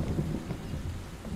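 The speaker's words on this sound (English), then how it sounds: "Oh, thunder and lightning." Storm noise in a video game: low rolling thunder rumbles under steady rain and faint wind, continuous and moderately loud.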